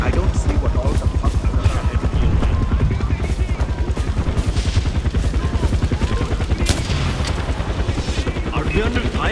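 Rapid, sustained automatic gunfire from the video game Far Cry 4 rattles on loud and close for the whole stretch, a dense, steady stream of shots with heavy booming underneath.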